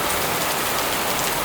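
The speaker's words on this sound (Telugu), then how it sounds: "మంచి వర్షం వెల్కమ్ చెప్తుంది." Heavy morning rain pouring outside a hotel, a loud, even, unbroken wash of drops striking the ground and surfaces, with no voices or other sounds breaking through.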